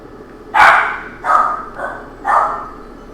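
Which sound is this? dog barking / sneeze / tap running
dog barking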